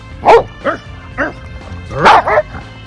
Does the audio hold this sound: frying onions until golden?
no